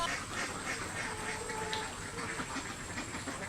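Ducks on a duck farm let out of their house in the morning, a faint scattered chorus of quacks over a steady hiss of background noise, fairly distant and without voices.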